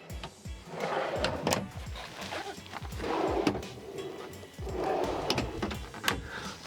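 Drawers and an upper and lower pull-out pantry in a custom Drifter camper van slide open and shut, giving three long rumbling glides with sharp clicks and knocks between them, close and fairly loud, with no talking.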